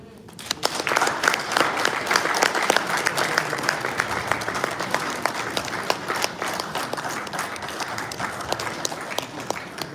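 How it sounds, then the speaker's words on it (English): A crowd at a gathering of Nigerians in London applauds a dignitary, sustained clapping with distinct sharp individual claps standing out, with a voice briefly over it. "Please, another round of applause for our Excellency."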